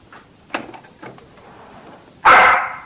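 A few soft, distant barks and whimpers, then one sudden loud bark close by at the end.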